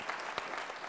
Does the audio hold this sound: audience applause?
yes